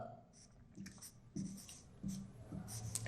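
Chalk or marker scratches out short strokes on a board in a classroom, a few faint bursts of writing with soft pauses between them.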